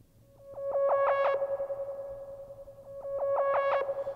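Buchla 212r modular oscillator fed through a low pass gate, giving two bursts of rapid rhythmic pulsing, each rising and fading over a sustained tone, fairly quiet and alone.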